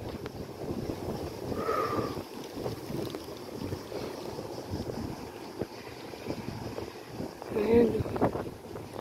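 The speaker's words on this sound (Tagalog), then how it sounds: "Mahangin ngayon." Wind gusting on a windy day in Athens, a steady broad rush with buffeting on the microphone throughout, a little louder near the end.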